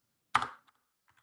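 A single sharp keystroke on a computer keyboard, close and fairly loud, followed by a couple of faint light taps in an otherwise quiet room.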